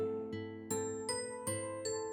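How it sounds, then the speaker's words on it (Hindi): A household doorbell rings in a chiming pattern, four bright struck tones each ringing out and decaying, clear and fairly soft in a quiet room. "घंटी बजती है।"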